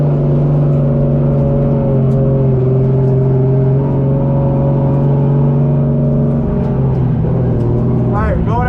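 A JZ-swapped Nissan 240 on a track, its engine droning loud and steady with a sustained rumbling tone that shifts pitch slightly, heard close up from inside throughout.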